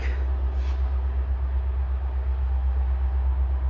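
CN freight train pulling cars onto a track while switching in Pembine, a low steady rumble of locomotive and rolling cars, moderately distant and continuous, with no talk.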